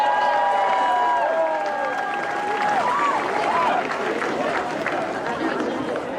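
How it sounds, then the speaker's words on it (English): A crowd applauds at an outdoor NIU campus car show and block party. The clapping is steady and fairly loud over busy crowd noise, with voices and chatter mixed in throughout. "Let's give them one more round of applause for their dedication, enthusiasm, and contributions to our NIU campus community."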